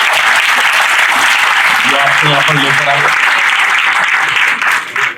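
An audience at a student science fest at the Meerut Institute of Technology claps loudly and steadily throughout, a dense wash of applause with a voice speaking over it.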